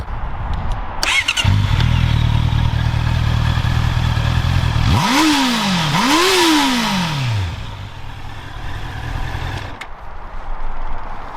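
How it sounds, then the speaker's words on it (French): A Honda CBR 650 R motorcycle engine cranks and fires up, then revs twice sharply with rising and falling whines before settling into a loud, steady idle. "Bon là on va la démarrer tout simplement et je vais vous montrer le bruit"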